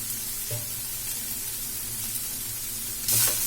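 Carrot, potato and beetroot fry together in a pan with a quiet, even sizzle, and a short scrape or clatter breaks through near the end.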